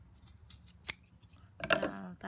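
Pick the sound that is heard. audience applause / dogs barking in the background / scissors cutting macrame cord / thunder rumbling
scissors cutting macrame cord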